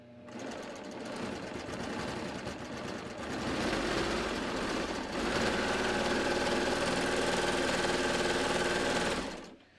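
A sewing machine runs steadily along the edge of a shirt, a continuous close mechanical whir that speeds up partway through and stops abruptly at the end.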